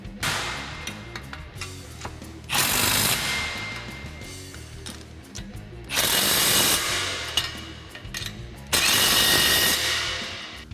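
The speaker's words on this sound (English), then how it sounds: "Now we can go ahead and tighten up these front clamps with our 15mm socket." A ratchet with a 15mm socket tightens the exhaust clamps of a C&L cat-back system on a 2015-2017 Mustang GT, making three sustained, loud buzzing runs. Quieter clicks and clinks of tools fill the gaps between runs, and no one speaks.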